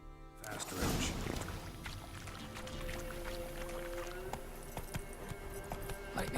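Roach the horse galloping in The Witcher 3: Wild Hunt on PS5, hooves clopping at a quick pace amid busy game ambience, with shouts and other effects layered over the ride.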